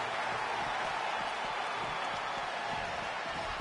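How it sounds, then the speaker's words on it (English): A Phoenix arena crowd roars steadily in a WWE wrestling video game, a dense, constant wash of cheering and applause with no pauses. "It certainly sounds like this Phoenix crowd is pumped up."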